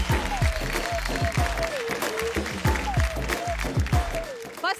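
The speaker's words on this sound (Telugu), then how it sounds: "మీకు మీరు చప్పట్లు కొట్టుకోరు ఒకసారి" A studio audience on the reality show Bigg Boss Agnipariksha claps for itself, a steady wash of applause beneath loud music with sweeping, falling tones.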